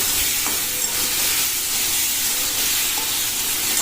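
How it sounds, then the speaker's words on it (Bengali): Vegetables frying in a pan with salt and cumin give a steady, loud hiss and sizzle that holds throughout, with no voices. "এটা দিয়ে আমি সবজিটাকে সময়ের জন্য আরও ফ্রাই করে নেব"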